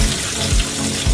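Mustard seeds, green chilli and ginger frying in hot coconut oil, a steady close-up crackle and hiss with a few soft pops, heard alone.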